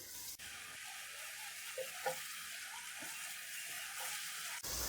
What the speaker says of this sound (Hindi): टमाटर को भी हम 3 से 4 मिनट भून लेंगे